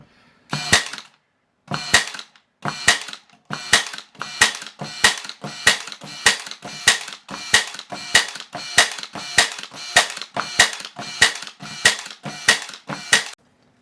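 Sharp, loud pneumatic-style snaps from a Ridgid Hyperdrive 18-volt 18-gauge cordless brad nailer on rapid fire, about eighteen shots in a fast steady rhythm after two slower opening shots, with no talking.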